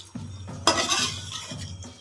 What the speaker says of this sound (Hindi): और इसको अच्छे से मिक्स कर लेंगे।